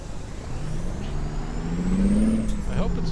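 In American Truck Simulator, a truck's parking brake releases with a rising air hiss over the low, steady rumble of the idling engine, heard alone without talk.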